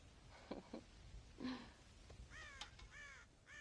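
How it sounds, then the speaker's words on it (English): Several crows caw harshly in the Red Dead Redemption video game, a few separate calls spread across a few seconds at moderate distance, with a cluster of rasping caws near the end and no talk. "God damn crows!"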